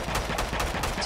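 Rapid gunfire in the Killing Floor 2 video game, a quick burst of several loud, closely spaced shots over about a second with no talk.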